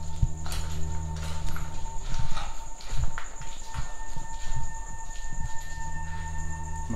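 Footsteps of people walking through an overgrown cemetery, a series of irregular steps and scuffs at moderate distance, heard over a steady hum of insects or crickets and low background drone.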